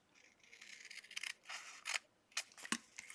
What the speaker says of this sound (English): I'm going to take this sticker and I'm going to cut it in half.